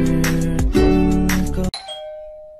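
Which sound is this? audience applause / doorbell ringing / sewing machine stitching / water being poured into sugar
doorbell ringing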